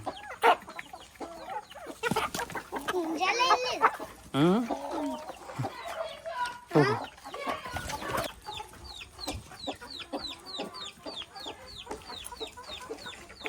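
Native country chickens cluck around a farmyard, with several close, irregular clucks and squawks and a rapid run of short clucks toward the end, while a person briefly murmurs.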